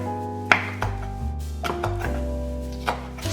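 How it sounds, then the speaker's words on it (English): Green pepper cut with a knife on a chopping board, a few distinct chopping thunks spaced irregularly over a steady musical backing, close and clear with no speech. "Now cut some green pepper and add into the pan."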